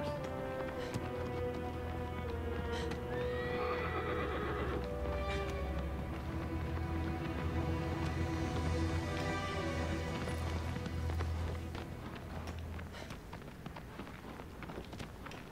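A horse in Shadow of the Colossus neighing and whinnying over steady galloping hoofbeats, with game music and ambient sound running continuously beneath, loud and close.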